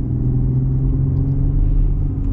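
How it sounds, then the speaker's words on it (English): A 2021 GMC Canyon Denali pickup with an 8-speed automatic accelerating gently on the road, a smooth, low engine rumble heard from inside the cab, steady and fairly loud with no talk over it. "We'll get a minor acceleration here."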